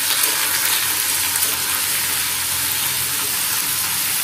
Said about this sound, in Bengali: এই যে আলু ভাজাটা চাপিয়ে দিলাম